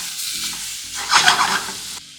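Diced tomatoes dropped into a hot pan for chickpea curry sizzle loudly, with stirring scrapes and a surge of hissing frying midway before it cuts off abruptly.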